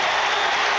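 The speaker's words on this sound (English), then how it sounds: "The crowd roars as the defense sets." A college football stadium crowd at Marshall in 1988 roars steadily, a dense wash of cheering and clapping heard loud and close for a brief moment.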